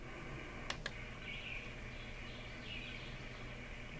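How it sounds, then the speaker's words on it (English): Soleil Sleep Spa sun alarm clock playing a nature track of birds chirping, faint high twittering calls over a steady hiss, preceded by two quick clicks from the button. "birds chirping"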